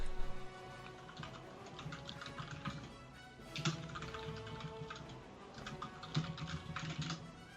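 Keyboard typing at a Korean StarCraft league broadcast, a steady run of soft, fast key clicks with louder bursts, heard alone at moderate distance.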